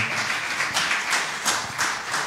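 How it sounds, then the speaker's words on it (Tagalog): A brief burst of clapping from a church congregation at Sunday worship, dense and fairly close, with a few louder accents rising out of the steady patter. "Isang buhay na palakpak sa ating mahal na Panginoon."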